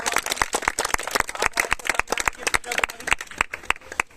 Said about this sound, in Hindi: तो इनके लिए ताली बजाइए